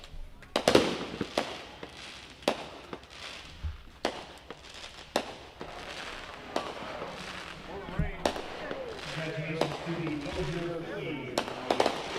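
Fireworks bursting after a baseball championship game, a rapid series of sharp booms and pops spread across the whole stretch, some loud and close, with a crowd and voices talking over them.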